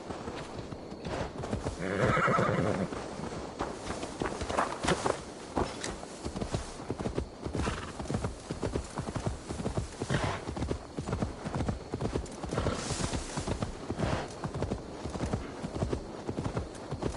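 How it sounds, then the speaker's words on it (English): Steady clip-clop of horse hooves walking in the video game Assassin's Creed Valhalla, with a horse neighing and whinnying near the start, set against a busy game soundscape. "Now to deliver Magni his horse."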